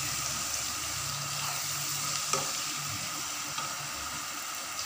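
Onions fry in a pan for besan kadhi, giving a steady, even sizzle with a few faint clinks and bubbles throughout.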